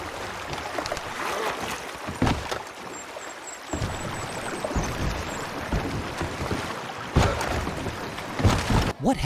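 Oars splash and paddle through water as a rowboat is rowed in the Red Dead video game, a steady wash of water and gentle wind with a few louder strokes, no talking.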